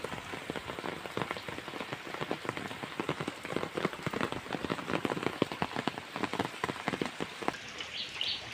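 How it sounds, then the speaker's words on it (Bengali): Rain patters steadily on surfaces during a monsoon downpour flooding a low-lying house, a dense, fairly soft drumming of drops with a faint bird chirp near the end. "বৃষ্টিটা এখন একটু কমের দিকে, প্রচুর জোরে হচ্ছিল, তার থেকে একটু কমেছে।"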